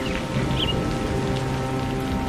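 Steady cartoon rain falling in an even, dense hiss that fills the whole moment at a constant level, with no voices over it.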